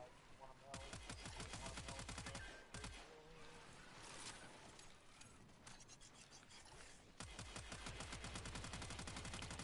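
The Tenora weapon in the game Warframe fires in long, rapid automatic bursts, a dense rattling stream of shots with a brief pause in the middle, loud and close under a speaking voice.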